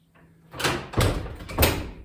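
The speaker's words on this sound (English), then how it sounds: "Door puts right into place and the bolt slides right into the keeper." An old door on an 1800s Carolina farmhouse swings shut with a solid wooden thud, followed by two sharp knocks as the bolt slides into the keeper, close and clear.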